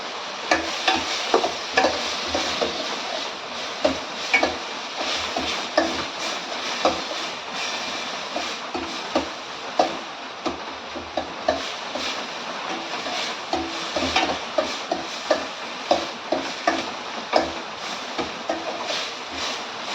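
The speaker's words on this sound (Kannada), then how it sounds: "ಫ್ರೈ ಆಗ್ತಾ ಇದೆ ನೋಡಿ, ಚೆನ್ನಾಗಿ ಫ್ರೈ ಮಾಡ್ಕೋಬೇಕು" Okra frying in a pan while being stirred, steady sizzle under a run of regular scraping and clacking strokes from the spoon, close and continuous with no voices.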